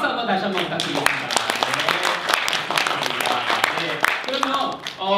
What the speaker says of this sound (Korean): 두 분 여러분 큰 박수 한번 다시 한번 부탁드리겠습니다.